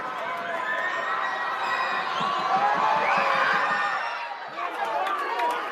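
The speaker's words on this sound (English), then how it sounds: "Crowd mostly on its feet." Basketball crowd at a high school game between McDowell and Benedictine, loud and sustained cheering and chatter through the gym from a mostly standing audience, with a brief dip near the end before the roar picks up again.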